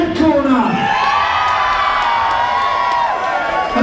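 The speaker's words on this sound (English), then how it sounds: "So a cheer for the red corner" A boxing crowd at a white collar fight night in Shrewsbury cheers for the red corner, a loud sustained roar of whoops and shouts with some high voices, filling the whole moment without pause.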